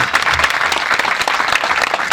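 Loud, dense applause from a school event audience in Parasia Range, West Chhindwara, honouring student achievers, steady and close throughout.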